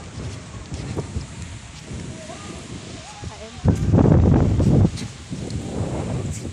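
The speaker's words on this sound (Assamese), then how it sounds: "ইমানেই বতাহ মাৰিছে মুকলি পথাৰছোঁ ইমান বতাহ মাৰিছে চাওকচোন" Strong wind blows across an open field in Assam, with gusty rumbling buffets hitting the microphone and one heavy burst midway, while a voice is faintly heard underneath.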